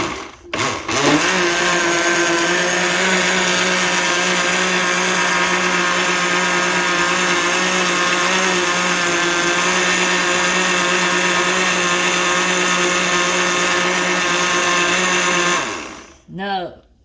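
A blender motor roars at full speed for a long stretch, a loud steady whir with water churning in a vortex inside, then spins down abruptly.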